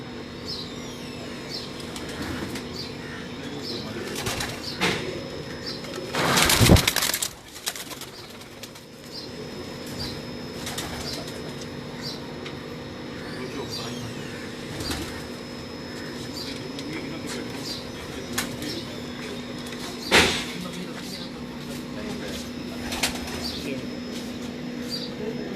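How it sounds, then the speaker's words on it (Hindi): Sher Dil pigeons on a rooftop loft, with one loud burst of wing flapping early on, then scattered soft flutters and clicks over a steady low hum and distant ambience. "ये शेर दिल कबूतर जो उनसे हैं, ये मेरे ख्याल से 90 साल पुरानी ब्रीड है"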